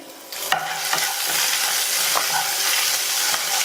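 Dried red chillies, chopped green chillies and curry leaves fry in a mustard-seed tempering, a loud steady sizzle with a few sharp crackles and spatula scrapes.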